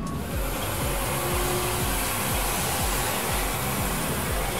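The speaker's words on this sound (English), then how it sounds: "and our hand dryer." An electric hand dryer blows with a steady, loud rushing roar, unbroken throughout.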